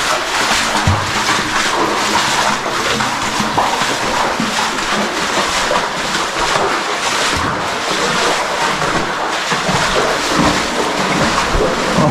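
Water rushing down inside an underground river cave reached through a pipe, a loud, continuous broadband roar that stays steady and close throughout, with no talking over it.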